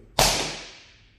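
iPhone 4S dropped from head height onto its back on a laminate floor, one sharp loud slap with a short decaying ring, alone without talk.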